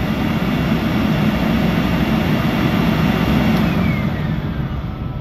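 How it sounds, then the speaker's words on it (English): An ARMOR 2+ retrofit machine runs its back motor, a loud, steady motor roar with a broad whooshing drone that holds constant and close throughout, no talking. "What you want to do is run the back motor for about 2 minutes."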